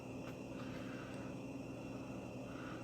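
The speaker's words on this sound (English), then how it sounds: "we've changed the frequency, we've changed the speed of the compressor. I can hear that it's truly running at minimum speed." A Whirlpool WRF989SDAM00 refrigerator compressor runs at its minimum speed, giving a steady, continuous low hum with a faint broadband whir that holds constant throughout.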